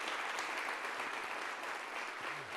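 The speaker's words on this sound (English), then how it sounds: "this guy does deserve a round of applause for all of his hard work" An audience at a marketing outlook meeting gives a round of applause, a continuous wash of many hands clapping, even and fairly quiet, heard alone without talk.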